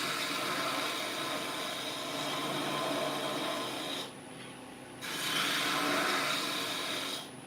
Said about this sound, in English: Doing a planing cut.